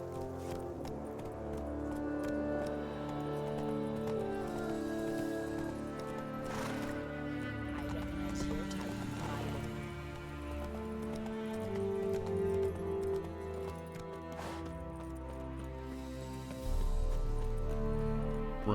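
Horse hooves clip-clopping at a run in the open-world video game The Witcher 3: Wild Hunt, steady rhythmic beats under a dense layer of game music, with occasional horse snorts and a brief louder swell near the end.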